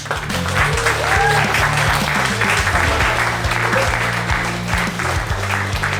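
Audience applause at a roast battle comedy show greets the first performer, a dense steady clapping across the whole stretch with some low rhythmic thumps underneath.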